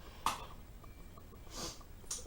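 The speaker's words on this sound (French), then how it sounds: "excusez-moi, je renifle" Two or three short nasal sniffs from a person with allergies, close but fairly soft, spaced apart against quiet room noise.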